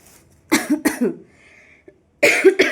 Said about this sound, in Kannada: ಯಾಕೋ ಕೆಮ್ಮು ಆಗ್ಬಿಟ್ಟಿದೆ, ಒಂಥರ ಡ್ರೈ ಥರ.